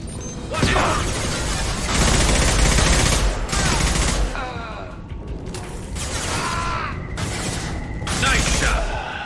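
Gunfire in a Mass Effect 2 cutscene: loud bursts of rapid automatic fire in several long volleys with short gaps, mechanical clatter and booms between them.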